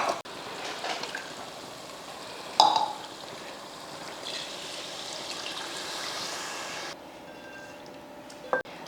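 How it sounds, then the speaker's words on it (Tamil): Water poured into a pot of rice for mutton biryani, a quiet continuous trickle and stream lasting several seconds with a couple of sharp clunks from the pot, no talking. "முதல்ல மட்டன் வேக வச்ச தண்ணியை சேர்த்துட்டு மீதி தண்ணிக்கு நார்மலாக தண்ணி சேர்த்துக்கலாம்"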